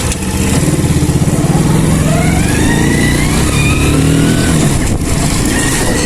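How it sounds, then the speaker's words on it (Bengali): A modified motorcycle engine runs loud and steady close by, its rough, throbbing idle holding at a high revving level throughout with little change in pitch. "তো গাইস এই বাইকটাতে সেলফ স্টার্টও আছে"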